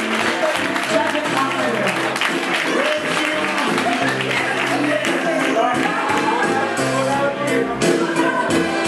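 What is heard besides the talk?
wedding guests applauding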